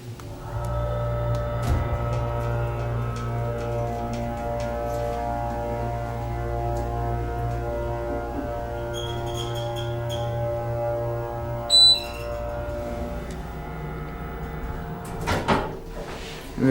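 Otis Series 2 hydraulic elevator (2012 model) with its motor running during a ride: a steady low drone and hum held for the whole stretch, with a brief chime or click and some clunking near the end.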